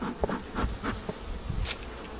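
Honeybees buzz densely around an open two-box hive during a summer inspection, a close, continuous insect hum with individual bees passing near.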